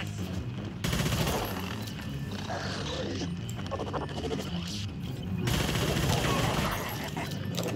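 Sustained gunfire in the video game Mass Effect 2, dense overlapping shots and bursts running through the whole stretch, loud and busy, with a swell of heavier fire near the end.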